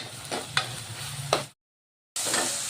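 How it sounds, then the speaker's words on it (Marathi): Garlic and chili frying with onions in a pan for a cabbage dish, a close, steady sizzle with a few sharp stirring scrapes, cut by a brief silent gap before the frying resumes. "आता याला 2 मिनटं कच्चेपणा जाईपर्यंत याला कांद्यामध्ये शिजू द्यायचं आपल्याला."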